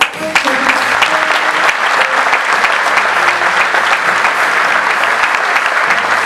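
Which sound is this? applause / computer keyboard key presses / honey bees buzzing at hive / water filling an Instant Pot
applause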